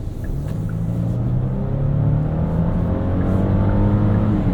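A 2024 Genesis GV80 3.5T V6 pulls steadily while driving, a continuous, fairly loud low engine drone with rising harmonic tones over constant road rumble, heard alone from inside the cabin.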